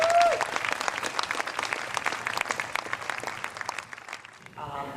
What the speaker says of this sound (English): you owe him a big round of applause.